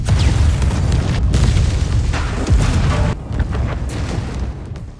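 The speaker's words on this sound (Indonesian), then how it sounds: "Ketika meledakkan titik-titik yang dicurigai, mereka mendapati kalau tepat di bawah tanah ada semacam ruangan kosong" Explosives blasting suspected spots at an abandoned facility, a heavy, deep rumbling boom that rolls on without a break, loud and dense, briefly dipping before the rumble continues.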